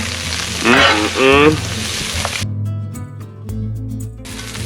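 Chorizo sizzles on a Blackstone griddle at a hunting camp, a steady crackling fry with a brief burst of scraping or stirring partway through, then quieter sizzle.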